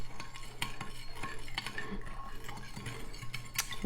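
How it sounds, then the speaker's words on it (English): A metal spoon stirs a rice vinegar dressing for a Thai-style cucumber salad, with repeated close clinks and scrapes against the bowl in an uneven rhythm. "Let's mix this up"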